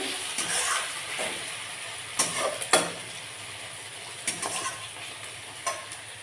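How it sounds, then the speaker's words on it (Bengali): Bay leaf, cardamom and cinnamon frying lightly in oil in a pan with onions, heard as a steady close sizzle punctuated by several sharp scraping stirs of a spoon against the pan, with no talking. "এখানে তেজপাতা দিয়ে দিচ্ছি আমি, এলাচ, দারচিনি আবার দিয়ে দিচ্ছি আমি। একসাথে অল্প হালকা ভেজে নেব।"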